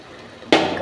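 Water is poured into chicken gravy in a cooker pot. After a quiet half-second, a sudden close splash and gurgle of pouring liquid starts and continues to the end.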